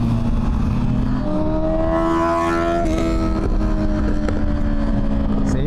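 A Honda CB650R motorcycle engine drones while riding, a steady harmonic note that climbs and shifts with revs over constant wind rush, close to the microphone and with no voices.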